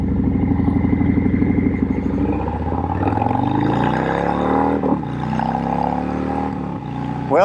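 A Harley-Davidson Fat Boy 114 motorcycle accelerates hard toward 60 mph, its deep V-twin roar climbing through the gears with brief dips at each shift, loud and close throughout.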